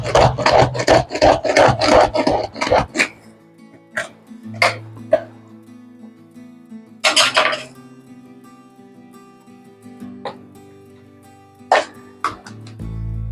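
An onion is finely chopped with a knife on a board while preparing potato and paneer parathas: a quick run of sharp, evenly spaced chops, then a few scattered single taps and scraping sounds close by.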